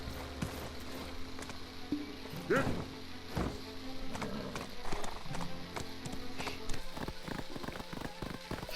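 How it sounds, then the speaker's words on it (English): An armored tier 5 horse in Black Desert Online moves along with repeated hoofbeats in a steady rhythm, mixed with ambient game sounds and a brief whinny-like call. "I really do wish that you got to keep this this tier 5 horse with his beautiful armor"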